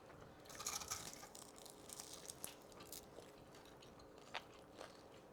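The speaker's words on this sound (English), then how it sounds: "that crunch coming all the way from Wing Station" Fried chicken wings from a wing shop bitten and chewed with crisp crunches, loudest in an early burst then quieter intermittent crunching, close up and faint overall.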